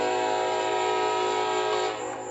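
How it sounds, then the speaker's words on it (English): Train horn blowing, a sustained loud harmonic blast heard from a distance, holding steady before fading slightly at the end. "we can listen to a train blowhorn for the next 20 minutes probably"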